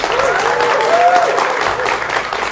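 Studio audience at a live Indonesian current-affairs broadcast bursts into sustained applause, loud and even, with faint whistle-like tones rising over the clapping.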